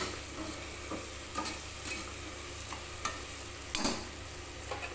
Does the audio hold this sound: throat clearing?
no